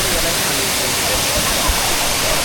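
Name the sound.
Maruti waterfall at Chondhe, Shahapur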